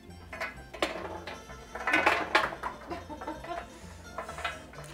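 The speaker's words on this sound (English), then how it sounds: "we're going to drop our struffoli" Struffoli, small Italian honey-ball dough pieces, tumbling into a pan in a home kitchen, a scatter of light clattering taps and knocks, a denser cluster midway, fairly close and moderately loud.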